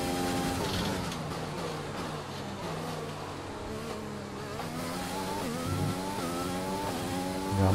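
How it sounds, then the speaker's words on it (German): An F1 2020 race car in the video game accelerates through the gears, a steady high engine whine rising and shifting in pitch, loud and continuous with no talk. "ich gebe jetzt auch mal ein bisschen Gas"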